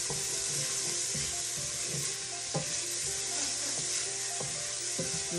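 Garlic sizzles in a hot pan, a steady bright crackle with occasional scrapes and stirring clicks over the hiss.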